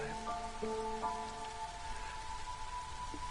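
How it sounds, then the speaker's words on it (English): Light rain pattering steadily in the video game Against the Storm, a soft continuous drizzle with faint tonal game chimes layered over it, quiet and even throughout. "now we're down to the drizzle"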